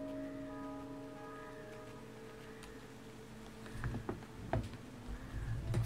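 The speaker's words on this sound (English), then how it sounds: "Finally had some rain." Rain patters softly in the video game Endling: Extinction is Forever, a faint steady wash over ambient music tones, with a few closer drops and splashes thickening toward the end.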